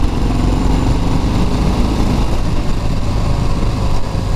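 A vehicle engine revs under opened throttle, a loud, steady low-pitched drone that holds close and constant throughout with no talking.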